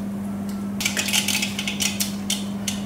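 Mustard seeds spluttering in hot oil in a pan for a Tamil New Year mango jaggery pachadi, giving irregular crackling pops and sizzles over a steady low hum, with no talk.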